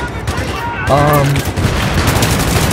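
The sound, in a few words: gunfire in video game Battlefield 3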